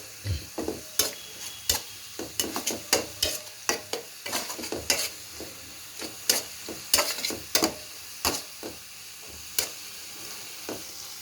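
Spice paste for a Bengali flat bean and fish curry fries in oil while a spoon stirs it, with close, irregular scraping clacks over a soft steady sizzle and no talking.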